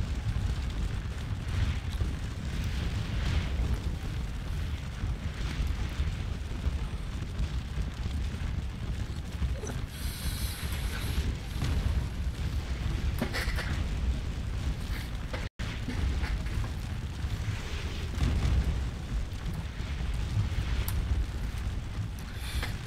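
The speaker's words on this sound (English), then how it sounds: "you have some of the shells exploding overhead along the forest there" Artillery shells burst overhead along a forest edge in the Napoleonic battle game Scourge of War: Waterloo, heard as a dense, constant roar of battle. Booms and crackling run steadily through it, with no clear single blasts standing out.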